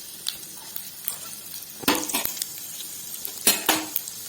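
Fennel, mustard, cumin and fenugreek seeds dropping into hot oil for an Odia tomato coconut chutney: a soft continuous sizzle broken by sharp clinks and scrapes of a metal spoon against the pan, with two louder clatters.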